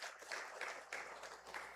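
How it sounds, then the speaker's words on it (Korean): A church congregation gives a round of applause for the choir at a Sunday service, a dense, even wash of many hands clapping at a distance that swells in waves. "우리 격려의 박수, 하나님께 영광의 박수 해주세요."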